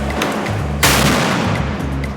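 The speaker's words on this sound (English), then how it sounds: "The police engaged Molotov cocktail-throwing protesters with rubber bullets," A sudden loud bang, as police fire rubber bullets and stun grenades at Molotov cocktail-throwing rioters during a street protest, followed by a sustained roar of noise over low rumble.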